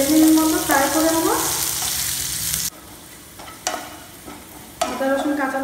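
Chopped garlic, ginger and green chilli sizzle in hot oil while a spoon stirs and scrapes the pan, loud and close, dropping quieter midway before the frying rises again.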